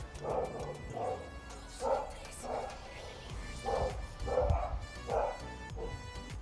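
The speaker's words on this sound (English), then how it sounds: "All the dogs came out all of a sudden." Several dogs bark and yip in a repeated series of short bursts, moderately distant and faint, with some whimpering and a voice talking faintly underneath.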